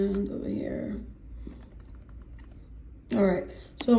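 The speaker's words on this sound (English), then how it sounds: "I'm kind of typing with one hand" Soft keyboard typing clicks along quietly, with brief murmured speech at the start and again near the end.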